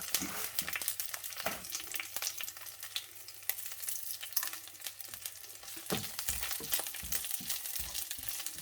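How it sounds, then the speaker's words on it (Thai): Large dried chillies fry in oil until crisp, giving a continuous close crackling sizzle with sharp pops and stirring clatter, busier and louder toward the end. "มี่เลยเอาพริกเม็ดใหญ่ค่ะ มาทอดก่อน ทอดให้กรอบ"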